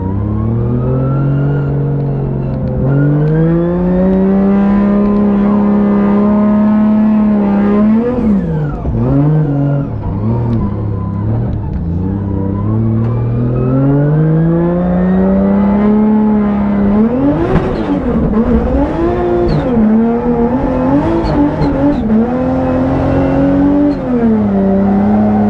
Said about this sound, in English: Warm up the tires.